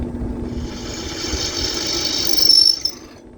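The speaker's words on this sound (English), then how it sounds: "since I've got one drilled, I gotta drill the other." A drill bit bores into a workpiece with a rising mechanical whine and grinding that builds to a loud peak with a high squeal before cutting off, close and alone.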